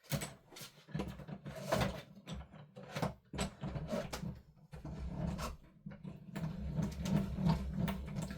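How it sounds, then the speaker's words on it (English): A die cutting machine for card making runs with a continuous low grinding hum and irregular mechanical clunks and rattles, fairly quiet and close, with no talking. "Right, I'll just put that through the die machine."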